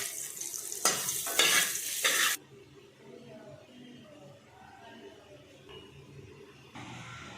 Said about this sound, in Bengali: এরপর আমরা হালকা হলুদ জল করে আলুগুলিকে ভেজে নামিয়ে নেব